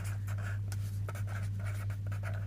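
Pen scratching on paper as a maths problem is written out, short scribbling strokes coming in quick bursts with brief pauses, close up over a steady low electrical hum.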